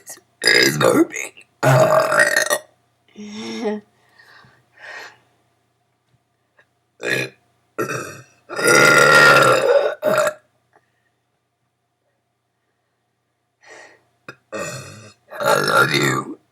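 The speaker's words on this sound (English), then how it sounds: "And my talent is burping" A young girl performs a burping talent act on a late-night TV show, letting out a string of loud, close burps in bursts separated by short pauses.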